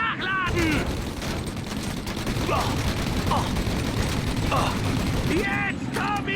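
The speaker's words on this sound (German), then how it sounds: "Ich schieß die ganze Zeit drauf, so viel wie nur geht." Gunfire in the Mafia Definitive Edition video game, a continuous rattle of shots under a busy battle din, with characters' voices calling out at intervals over it.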